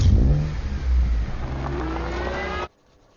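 A car engine revs loudly while the vehicle reverses, holding a strong, rising roar for over two seconds before cutting off abruptly into near silence.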